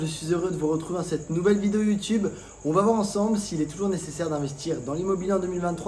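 Crickets chirp steadily outside a villa in Bali by a pool, a thin continuous trill running under someone talking loudly throughout.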